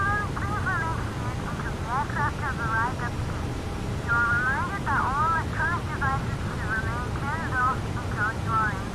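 A simulated Airbus A350-900 in X-Plane 11 turns off the runway after landing at Karachi, giving a steady low engine drone throughout while a voice talks over it.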